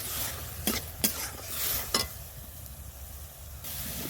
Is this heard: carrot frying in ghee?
yes